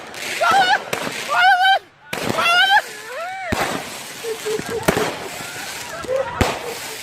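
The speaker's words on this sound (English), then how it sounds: "A bunch of people are lighting fireworks in the street, just as you do on July 4th." Fireworks going off in a street, heard as a string of loud sharp cracks and pops, some close and some farther away, mixed with excited shouting and voices through most of the stretch.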